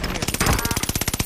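Rapid automatic gunfire in a multiplayer shooter video game: one loud, close burst of evenly spaced shots lasting just over a second.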